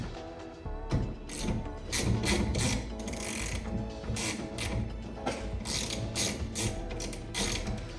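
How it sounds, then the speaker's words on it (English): A ratchet with a 13mm socket clicks rapidly in repeated bursts while removing the rear wiper from a Ford Focus ST, close and crisp, with short pauses between strokes. "you guys are going to use a 13mm socket to get this wiper off"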